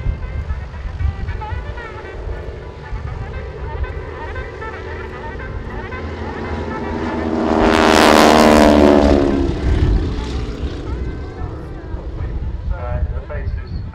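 Propeller biplanes carrying wingwalkers in stack formation drone overhead at the RAF Cosford airshow, the engine roar swelling loud as they pass, under steady wind noise.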